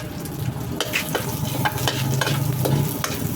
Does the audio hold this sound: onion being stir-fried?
yes